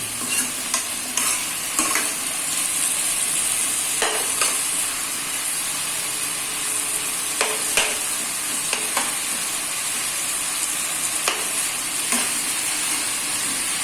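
Chicken and tomato fry in a pan with a steady loud sizzle, punctuated by periodic spatula scrapes and taps as the mixture is stirred, close up and with no talking.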